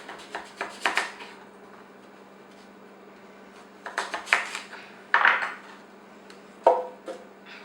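A knife chops fruit on a cutting board in short bursts of sharp taps and clinks, with quiet pauses between, close by.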